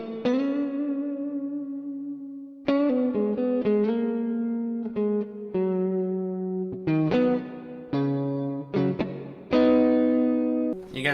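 Electric guitar played through the Guitar Amp Sim 3 plugin with a high-gain crunch tone, sustained bent notes and chords followed by a busier run of picked phrases, distorted with reverb, no talking.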